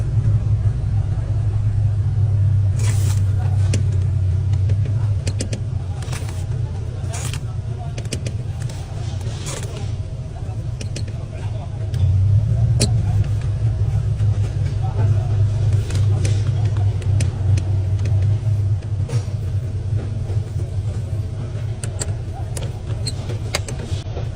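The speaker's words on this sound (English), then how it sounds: "Start the car. Try shifting." A car engine idling steadily after a clutch adjustment, a low continuous rumble that dips and rises mid-way as gears are shifted, with scattered clicks and light mechanical taps close by throughout.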